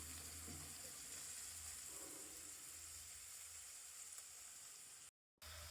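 Onions roasting in a pan give a faint, steady sizzle and hiss that runs continuously without pause, with no voices over it.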